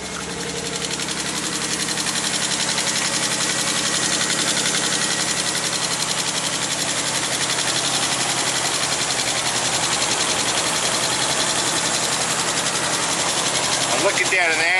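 An engine that sat unused for two years idles roughly and misfires, a loud continuous uneven chug that carries on steadily throughout.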